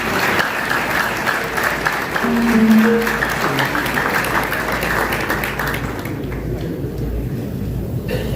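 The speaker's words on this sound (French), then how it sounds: "Ce ne serait pas de trop si vous applaudissez encore Bibi." Audience applause at a school or education-department ceremony in Artibonite, Haiti: steady dense clapping from a crowd, loud throughout and thinning slightly near the end.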